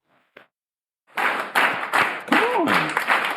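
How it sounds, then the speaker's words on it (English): Applause bursts in with a crowd clapping loudly and steadily, and a voice briefly rises over the clapping partway through. "round of applause"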